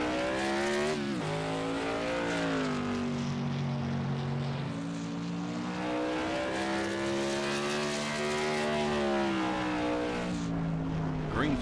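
Modified race car number 5 roaring around a racetrack during a qualifying run, engine note rising and falling through gear changes and corners, loud and steady throughout the clip with no voices over it.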